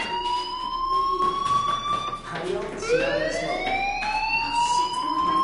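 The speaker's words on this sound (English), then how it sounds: "do you hear that fire alarm?" In the video game Life is Strange, a fire alarm wails in rising and falling electronic tones, loud and continuous, while people talk over it.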